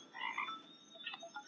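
A cartoon frog in the iOS game Army of Frogs gives a few quick, bright croaks, soft and close, with brief gaps between them.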